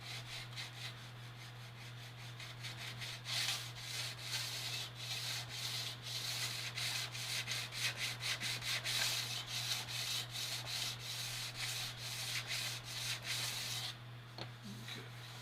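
Steady hand sanding of a USS North Carolina ship model, a rhythmic rasping scrub that continues almost without pause, close up, with a constant low hum underneath.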